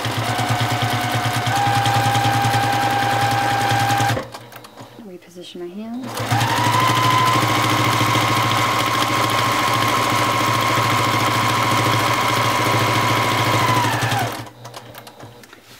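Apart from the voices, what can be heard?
sewing machine stitching in the ditch on a quilt block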